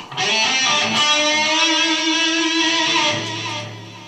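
An electric guitar rock lead phrase with sliding and bending notes, ending on a wide, wobbling vibrato, played alone and fairly loud.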